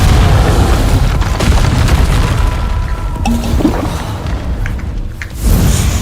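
Spell blasts from Hogwarts Legacy combat, with the Confringo fire spell set off among a flurry of casts: loud, dense booming bursts and thuds that run continuously under busy game action.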